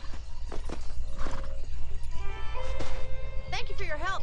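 A horse in a video game neighs and its hooves clip-clop steadily, heard close and clear over low background music, with a character's voice speaking partway through and a whinny near the end.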